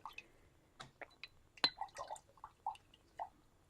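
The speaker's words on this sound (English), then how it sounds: "I'm going to wet my brush again." A paintbrush is dipped and swished in water while journaling, giving a quiet series of small drips, splashes and wet squishy taps, spaced unevenly and heard close up with no talking.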